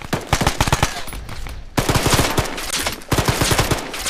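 Rapid automatic rifle fire in Arma 3, a dense string of sharp shots in quick bursts with short pauses, loud and close, with no talking over it.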